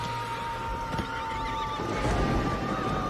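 Horses in The Exorcism of Emily Rose whinny and neigh, with a sustained high cry over a dense, fairly loud background of movement and hoof noise.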